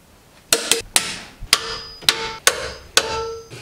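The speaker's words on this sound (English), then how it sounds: "Now we just need to torque down the new engine mounts." New engine mount bolts on a BMW E34 torqued to spec with a wrench: a series of sharp metallic clicks and clacks in an irregular rhythm, close and fairly loud.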